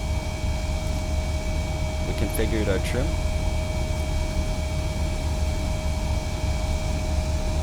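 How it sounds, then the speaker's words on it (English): Steady broadband roar of an MD-80 airliner's jet engines idling in the X-Plane 11 flight simulator, with a constant tonal whine, running continuously while someone briefly talks over it. "Engines are on."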